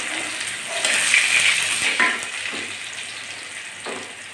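Chopped garlic dropped into hot oil already seasoned with bay leaves and dried chillies, sizzling and crackling close up, with a few stirring scrapes.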